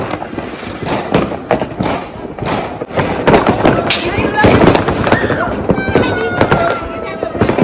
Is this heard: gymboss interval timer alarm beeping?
no